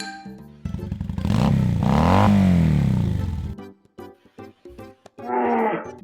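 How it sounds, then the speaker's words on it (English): A loud revving engine roar, rising and falling in pitch for a few seconds, then brief short bursts and another rev near the end. "I'm going to say that is the motorcycle."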